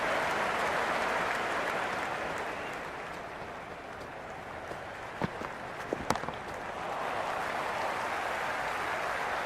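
A video game crowd at a Cricket 26 match roars and applauds in a steady, broad wash of noise, with a few brief sharp knocks cutting through midway.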